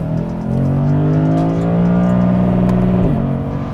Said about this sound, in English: This is basically one of the last luxury sedans you can get with a naturally aspirated V8.